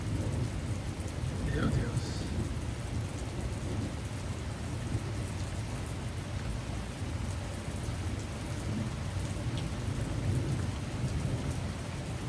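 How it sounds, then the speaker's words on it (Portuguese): A heavy thunderstorm in Naugatuck, Connecticut, with strong wind: dense, steady rain pours throughout while thunder rumbles low underneath, and a voice briefly exclaims. "Vai precisar dessa chuva, gente."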